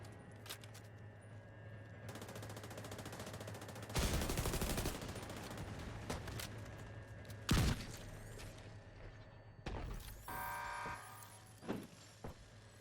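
Gunfire in the video game The Division 2 during a raid boss fight, a few distant bursts and isolated sharp shots over a steady low mechanical hum, fairly faint and without voices.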